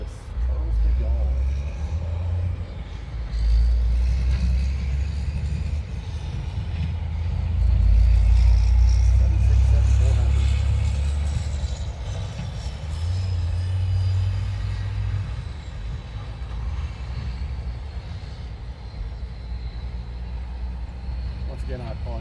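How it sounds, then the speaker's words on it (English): Dump trucks rumble along an access road beside an airport, a heavy, steady low engine drone that swells in the middle and stays constant throughout, with a voice talking faintly over it. "Once again, I apologize for those dump trucks on this access road."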